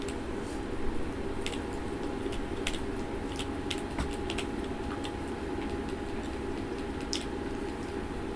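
Computer keyboard keys tapped in short irregular clicks for truck steering corrections in American Truck Simulator, faint and fairly close over a steady background hum.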